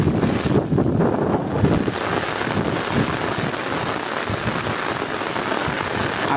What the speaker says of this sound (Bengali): বৃষ্টির পরিমাণ সময়ের সাথে সাথে বাড়তেছে